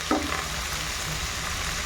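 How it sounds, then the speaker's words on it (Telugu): Onions and curry leaves sizzle in a pan with mustard seeds and cumin, a steady close frying hiss after a brief stirring clatter at the start, continuing alone without any voices. "ఆవాలు జీలకర్ర వేగిన తర్వాత ఆనియన్ కరివేపాకు మిక్స్ చేసుకోవాలి"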